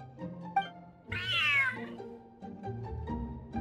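In Genshin Impact, a cat lets out one long, drawn-out meow that rises and falls, loud and near, between quieter ambient sounds.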